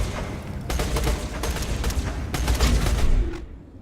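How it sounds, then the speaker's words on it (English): A Gatling gun fires in Borderlands 2, a dense, rapid burst of loud gunfire with irregular volleys lasting a few seconds before it cuts off abruptly, with no talk over it. "No, it's a green, but it's a Gatling gun."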